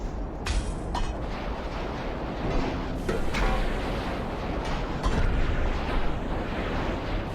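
A 125,000-ton battleship with hundreds of torpedo tubes launches torpedoes in the naval game Ultimate Admiral Dreadnoughts, a dense, loud barrage of overlapping bursts and booms with sharper pops at irregular intervals.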